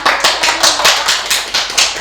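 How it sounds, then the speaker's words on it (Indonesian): Students clap in a classroom, a thin scattering of separate, fairly close hand claps in a loose, uneven rhythm over about two seconds. "Silakan minta tepuk tangannya untuk Gusti"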